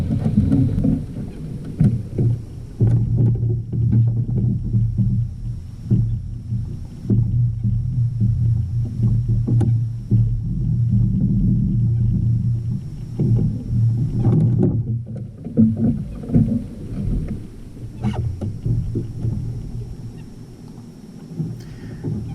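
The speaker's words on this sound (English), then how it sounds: "I started using these wooden 5-foot oars that you're seeing in the video" Wooden five-foot oars row a DIY wooden sailboat at Baldwin Park, Florida, giving a steady low, throbbing wash of water and oar strokes that continues close by for the whole stretch with no talk.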